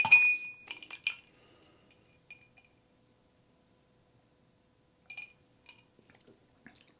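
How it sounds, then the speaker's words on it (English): An ice cube drops into a glass of 115-proof corn whiskey with a bright clink and a few rattling taps, then quiet, followed by a few more faint clinks as the cube settles. "Drop an ice cube in there."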